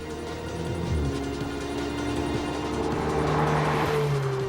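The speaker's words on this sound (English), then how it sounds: "the turbocharger does have a bit of that throaty feel" A turbocharged Ferrari 488 GTB V8 engine hums and rises in pitch as it accelerates, a steady deep throaty drone building smoothly.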